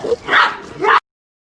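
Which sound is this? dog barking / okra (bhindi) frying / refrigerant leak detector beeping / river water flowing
dog barking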